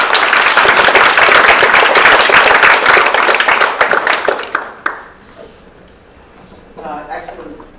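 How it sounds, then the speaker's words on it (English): Audience applause after a presentation at a crypto meetup, a dense burst of clapping that lasts about five seconds and then cuts off, followed by a voice speaking. "Round of applause."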